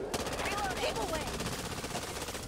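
Rapid automatic gunfire from the co-op zombie shooter Back 4 Blood, bursts rattling continuously across the scene with game effects and players' voices mixed in.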